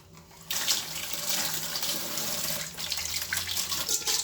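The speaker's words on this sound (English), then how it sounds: "Now you rinse your saucepan, make sure it's clean" Water runs steadily from a kitchen tap as a saucepan is rinsed inside, a continuous close splashing stream that starts abruptly after a brief quiet moment and carries on without talk.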